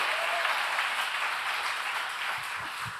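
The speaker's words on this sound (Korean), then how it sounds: "우리 주님께 영광의 박수 올려드리겠습니다" A church congregation breaks into sustained applause, a dense, even wash of many hands clapping together, filling the room at a steady level and easing slightly toward the end.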